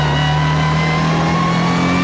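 An 800hp four-wheel-drive Subaru Legacy hillclimb car engine holds a loud, steady, droning rev up close inside the cabin, with no pauses.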